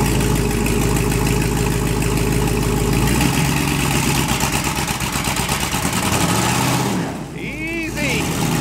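A 1957 Chevy engine runs with a loud steady low rumble as the car is driven out, its tone shifting midway, while someone talks over it.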